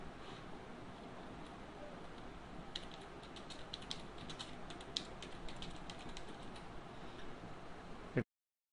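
Faint, soft clicks of a computer keyboard patter in a loose run as a title is typed into video-editing software, sitting under a steady background hiss that ends with a sharp cutoff.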